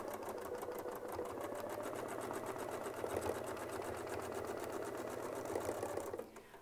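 A sewing machine quilts with a Westalee Spin-E-Fex ruler, giving a steady, rapid mechanical stitching hum that runs loud and unbroken for about six seconds before cutting off near the end.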